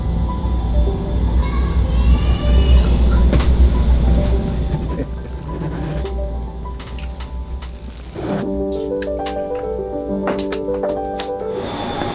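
A train rumbles steadily with low mechanical drone, then quiets as tonal hums and brief clanks emerge; no one speaks.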